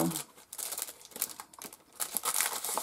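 Paper is folded into a storage envelope for clear stamps, giving close, brief crinkling and crackling rustles in irregular bursts.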